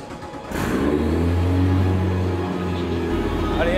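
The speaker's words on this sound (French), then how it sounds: "Dès que tu commences à faire démarrer le moteur," A race car engine fires up and revs hard at close range, a steady loud mid-pitched roar rising and holding after a quieter start, with a brief pitch swell partway through.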